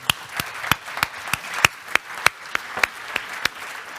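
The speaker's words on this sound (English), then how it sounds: "So a huge round of applause for our panelists" A few sharp, evenly spaced hand claps ring out one after another in a conference hall as an audience applauds the panelists, sparse and distinct rather than a full ovation.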